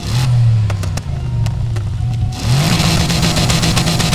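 A car's exhaust revs in the Need for Speed Heat video game, a loud, close engine roar that dips briefly and then climbs again.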